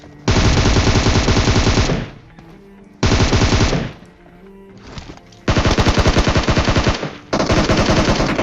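Bursts of automatic gunfire in a battle royale shooter game, loud rapid volleys that stop and restart several times with short quiet gaps between them, no talking.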